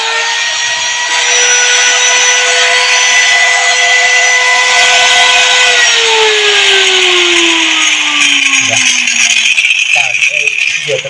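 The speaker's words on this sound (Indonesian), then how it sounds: "Ketika dicolokin dan dihidupin, dinamonya mutar atau mesinnya mutar, tetapi pisau gurindanya nggak bisa mutar" An angle grinder with a fault that keeps its disc from turning while the motor still runs, giving a steady, loud electric whine that shifts and drops in pitch partway through, with rattling in the background.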